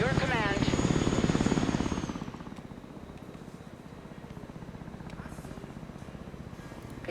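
An Osprey tiltrotor aircraft in the Broken Arrow game gives a steady rhythmic rotor thump under a game voice line at the start, then continues alone at a moderate level.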